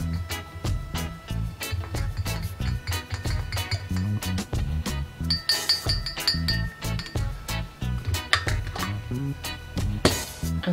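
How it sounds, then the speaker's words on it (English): A spoon stirs an apple cider vinegar and honey drink in a glass, making repeated close, bright clinks against the sides in a steady run with no talking. "And then give it a little bit of a stir."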